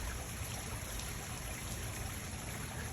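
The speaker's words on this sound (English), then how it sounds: "The water is still flowing much more rapidly than a full day of rain today." Rain-swollen creek rushing steadily past a buried flat rock, a dense, continuous broadband wash of flowing water with no pauses, fairly close and even in level throughout.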